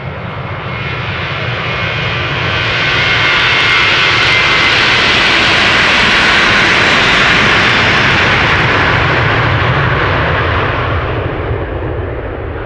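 KLM Boeing 737-800 jet, 23 years old, departing Amsterdam Schiphol in snow, a loud roaring engine rumble that swells to a broad peak and slowly fades as the aircraft passes, no talk.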